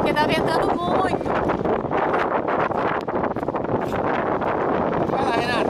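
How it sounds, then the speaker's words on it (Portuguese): Strong wind buffets the microphone in a loud, continuous roar, with muffled voices partly buried beneath it. "tem que falar alto, porque tá ventando muito"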